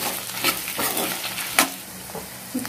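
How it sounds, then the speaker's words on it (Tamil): Onions, chillies and tamarind for kara chutney sizzle in hot oil as they are sautéed, with a spoon scraping and stirring in the pan close up, continuous and without talking. "இதையும் சேர்த்து நல்லா வதக்கிக்கோங்க"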